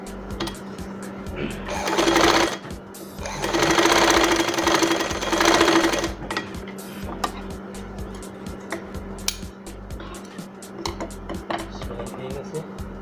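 A sewing machine stitches a thin fabric strap for a cord, running in two bursts of steady whirring, each a couple of seconds long, amid quiet room noise.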